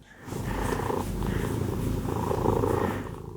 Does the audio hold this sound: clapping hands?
no